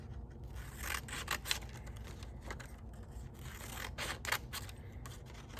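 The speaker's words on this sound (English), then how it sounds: "you are going to cut slits into your square" Scissors make repeated short snips and rubbing scrapes while cutting slits into a paper square for a craft basket, close and fairly quiet with no talking.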